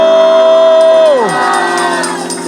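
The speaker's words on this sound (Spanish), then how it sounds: "Un grito de júbilo." A church congregation lets out a loud, sustained shout of joy at an anniversary service, many voices merging into a roaring cheer with one high held cry that slides downward before the crowd noise carries on.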